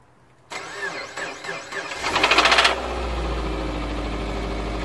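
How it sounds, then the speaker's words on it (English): An EJ25 engine in a Subaru Forester cranks with several uneven churning turns, then fires up and rises into a steady idle, with a rattly, irregular edge early on; recorded close, with no talking. "take a good listen to our poor old EJ25 engine here"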